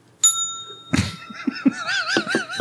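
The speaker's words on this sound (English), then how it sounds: "Did you guys ring that bell because I just cracked a beer?" A bell gives one bright ring with a lingering tone, followed by a knock and a short run of wavering, warbling tones, close and fairly loud, with no speech.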